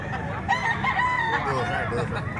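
A bullstag rooster crows loudly nearby in one long drawn-out call, with faint background chatter and farmyard noise, at a Cebu fowl market.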